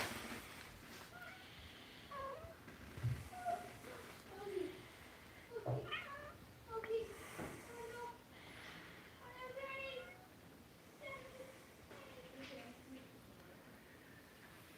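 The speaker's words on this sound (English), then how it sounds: "DJ, there's a kitten all the way back here" A kitten meows several times in high, thin, fairly faint calls scattered among people talking quietly nearby indoors.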